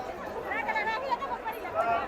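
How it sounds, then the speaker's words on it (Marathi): A dense crowd at an agricultural exhibition in Khandapur, Latur, chatters all around, many overlapping voices forming a steady, busy hubbub with no single speaker standing out. "पुढं जायचं म्हणल्यावर खूप गर्दी आहे"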